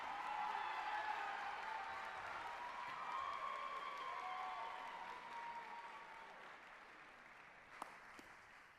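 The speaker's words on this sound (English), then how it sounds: "Another round of applause" Crowd at an arts college commencement ceremony applauds in a sustained, fairly distant wash of clapping with faint cheers and a sustained tone, gradually fading, a couple of sharp knocks near the end.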